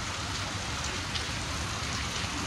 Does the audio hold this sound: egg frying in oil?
no